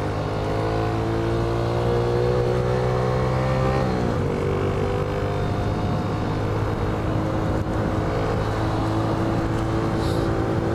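A BMW convertible drives past with a steady, loud engine drone whose pitch drops partway through as it goes by, over continuous road and traffic noise.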